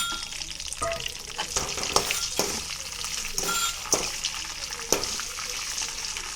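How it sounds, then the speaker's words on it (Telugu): Curry leaves and spices frying in oil on a low flame for tamarind pulihora, a steady close sizzle broken by occasional sharper crackles and stirring scrapes, with no talk. "లో ఫ్లేమ్లో మంచిగా వేయించుకోవాలి. సో ఇవి వేగుతున్నాయి కదా"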